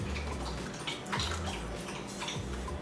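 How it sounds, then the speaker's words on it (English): A puppy laps water steadily and loudly, making a continuous close, wet slurping and splashing with no voices. "the puppy is drinking water and it's really loud."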